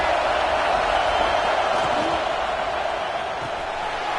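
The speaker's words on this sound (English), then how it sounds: "This crowd ready to make its presence known." A football stadium crowd keeps up a loud, continuous wash of noise, a dense steady roar with faint cheers rising out of it, unbroken from start to finish.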